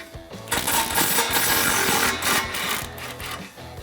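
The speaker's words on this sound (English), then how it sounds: "Get the 2 bolts off of that flange." Swivel socket on a 16 mm ratchet backing flange bolts off the exhaust of a 2019-2022 RAM 1500 5.7L, a rapid steady metallic clicking rattle close up for several seconds.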